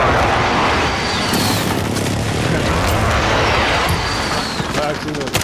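Called-in artillery strikes in a Call of Duty Rebirth Island match, a dense, continuous barrage of booming blasts and crackling impacts loud and close throughout.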